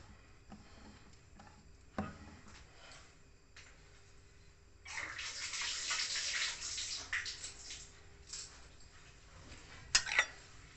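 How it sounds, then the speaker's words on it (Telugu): Water is poured into a bowl of wheat flour dosa batter, a steady splashing pour lasting a few seconds after some soft clinks and handling, close and fairly quiet with no talk. "కొంచెం చిక్కగా ఉంది, నీళ్ళు పోసుకుందాము"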